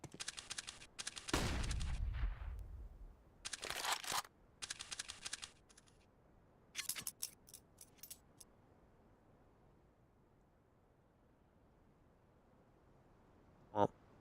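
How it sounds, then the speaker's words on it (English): PUBG gunfire in a tournament match comes as several sharp bursts and single shots over a few seconds, followed by near silence and one last shot. "Wits in the pit, shots at Gate."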